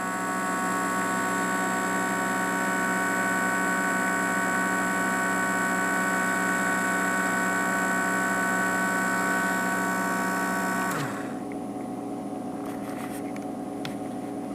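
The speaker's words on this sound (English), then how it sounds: "Here's the sawmill, and it's got a moving paddle wheel." An N scale model railway sawmill with a moving paddle wheel gives a steady mechanical hum and whir with a layered motor drone, which drops away near eleven seconds to a quieter hiss with faint ticks.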